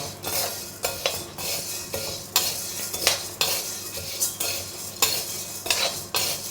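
Garlic roasting in a pan for a Tamil Nadu-style chutney powder is stirred briskly, with repeated metal scrapes and clinks of a spoon on the pan in an uneven rhythm over a faint sizzle, close up and with no voices.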